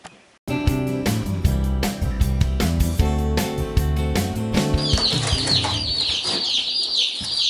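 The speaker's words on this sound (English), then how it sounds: "These are Cornish Cross chicks that we'll raise for meat chickens." Cornish Cross meat chicks peep in high, rapid chirps over loud music, their calls standing out clearly during the last few seconds.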